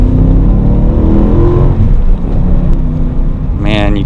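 BMW M3 engine pulling under acceleration on a drive, a loud, close, droning growl with rising tone through the first seconds, then steadier cruising, with someone talking over it briefly near the end.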